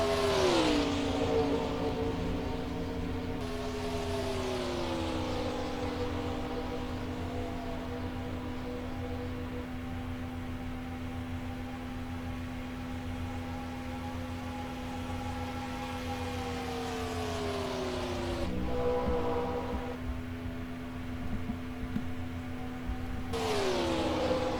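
Stock race cars at Michigan in a 2005 MG Cup Series racing game, pulling away on a restart: a steady loud engine drone with pitch sweeps as gears shift and speed builds, plus passing whooshes, with no talk.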